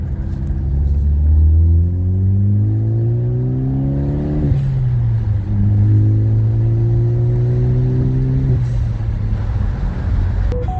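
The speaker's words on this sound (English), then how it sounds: "let's give her a little throttle here." A turbo-swapped Ford Focus engine revs under throttle, rising and falling in pitch across two long pulls with a deep, steady rumble, loud and close with no talking.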